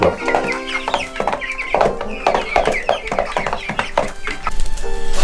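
Young chicks, a small group of six, clucking and cheeping in repeated short calls close by, busy and fairly loud throughout.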